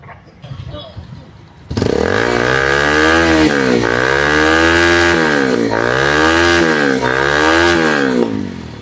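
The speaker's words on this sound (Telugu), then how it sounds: "బండి స్టార్ట్ చేయ ఒకసారి" A motorcycle fitted with a modified silencer starts after some brief rustling, then idles loud and close, its deep harmonic engine note rising and falling through several rhythmic revs before easing off.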